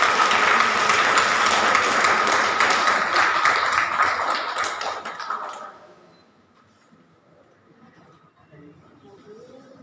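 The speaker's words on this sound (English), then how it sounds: "All of you please welcome sir with a round of applause." A school audience applauding to welcome a guest at a Republic Day celebration, dense steady clapping for about five seconds that then dies away into quiet room noise.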